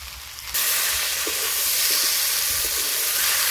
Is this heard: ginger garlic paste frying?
yes